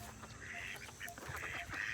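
Domestic ducks quacking in a backyard poultry pen, several nasal quacks overlapping in quick bursts nearby, steady and fairly loud with no talk.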